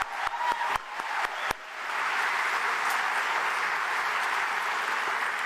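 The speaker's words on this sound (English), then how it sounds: "Another big round of applause for Delegate Sam Rasool." An audience in Roanoke applauds Delegate Sam Rasool, a few sharp nearby claps opening into a steady, sustained wash of crowd clapping that carries on evenly to the end.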